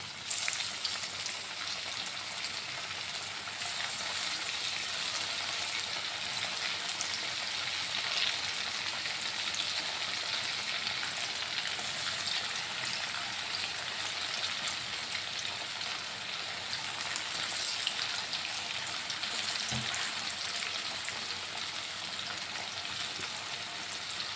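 Steady, dense sizzling and crackling of chicken pieces frying in hot oil, continuous and fairly close, with no talking.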